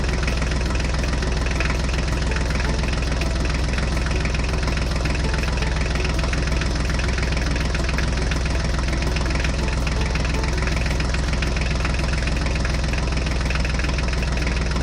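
Continuous buzzing idle of a toy Mahindra tractor's engine sound, close and loud, with a fast chugging pulse that holds constant from start to finish without any voices.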